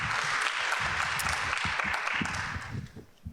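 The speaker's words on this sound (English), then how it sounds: "another round of applause?" Audience applause for panelists at a university transfer panel, a moderate wash of clapping with some low rumble beneath, thinning out and fading toward the end.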